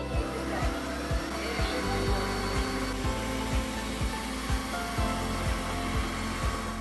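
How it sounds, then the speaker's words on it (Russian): A new vacuum cleaner runs steadily and loud throughout with a constant motor whine, its airflow roar overlaid by regular rhythmic pulsing, with no talking. "Включай новый пылесос."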